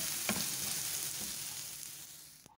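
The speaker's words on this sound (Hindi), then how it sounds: "अब इसको अच्छी तरह से मैं फ्राई कर लूँगी जब तक इसका हल्का सा कलर नहीं आ जाता" Onions sizzle steadily in a hot pan, a continuous close broadband frying hiss with a couple of soft stirring knocks, fading near the end.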